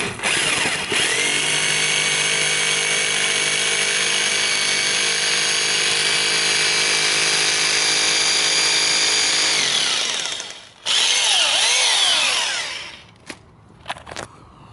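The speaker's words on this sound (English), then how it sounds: "So there you go, I'm set to hammer drill." Loud, steady whine of a Hilti TE-6s hammer drill boring into brick for about ten seconds, then stopping, followed by brief clattering and a few quieter knocks.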